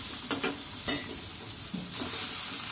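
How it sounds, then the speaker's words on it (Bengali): Boiled soybean chunks fry in a pan with a continuous close sizzle, broken by a few stirring scrapes. "এটা এইভাবে সুন্দর করে ভেজে নিচ্ছি"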